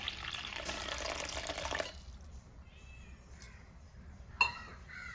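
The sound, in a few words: water poured into a bowl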